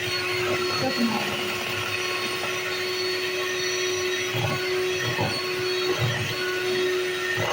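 An electric mixer whirs steadily through chocolate cake batter with a constant motor whine, its tone wavering slightly as it churns.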